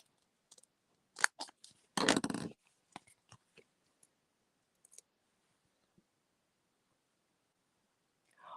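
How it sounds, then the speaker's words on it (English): Snips make a handful of sharp, close clicks and crunches, with one longer rustling cut in the middle and scattered small taps, apparently while trimming small pieces from material that has putty on one end. "Get my snips."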